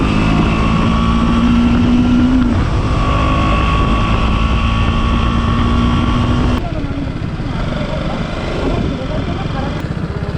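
Motorcycles on a group forest ride cruise along an old airstrip runway, their engines droning steadily up close with buffeting wind noise, while a rider talks over the constant hum.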